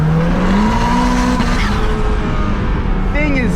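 A turbocharged Mazda Miata accelerates hard in third gear, its engine note climbing steadily and loudly from inside the car, with a tire-like squeal near the end.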